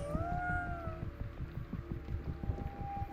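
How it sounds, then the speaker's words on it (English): A cat in the game Ghostwire: Tokyo gives two drawn-out, rising meows in the opening second, heard clearly over a low, steady game soundtrack that continues after the cries fade. "Are you trying to shake down a cat?"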